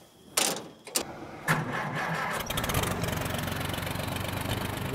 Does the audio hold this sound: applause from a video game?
no